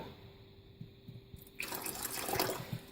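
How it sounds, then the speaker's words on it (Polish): Warm water is poured into a homemade detox drink of lemon juice and an overnight mixture, a soft rushing pour that starts abruptly and continues steadily after a few faint clinks. "I dolewamy ciepłej wody."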